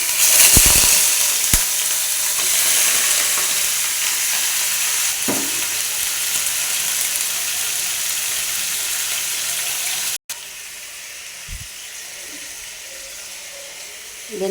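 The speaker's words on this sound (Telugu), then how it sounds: "ఇది కాస్త వేడైన తర్వాత చికెన్ వేసుకున్నాము." Boneless chicken pieces sizzle steadily in hot ghee in a pan, with a few sharp clanks of stirring. The frying dips quieter near the end and continues alone without talk.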